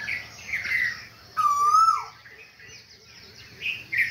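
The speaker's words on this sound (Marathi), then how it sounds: "इथं कोकिळ आणि कोकिळा दोन्ही आहे" Asian koels calling outdoors in a village under a cloudy sky: several clear, rising whistled notes at moderate distance, separated by short pauses amid faint background birdsong.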